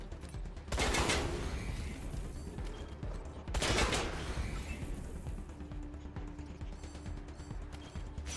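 Gunfire in Wasteland 3, two heavy bursts of shots about three seconds apart, each decaying into a sustained rumble, with a faint hum lingering afterward.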